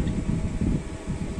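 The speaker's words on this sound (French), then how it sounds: "on a là un double ventilo qui fonctionne" Twin fans on a portable power station run at maximum power, giving a steady, close, continuous whir with a low rumble and slight fluttering, with no voices over it.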